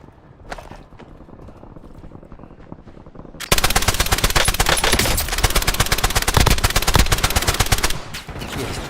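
Rapid machine gun bursts in the video game Warzone, loud and sustained after a quieter stretch of ambient noise, with dense repeated shots continuing to the end.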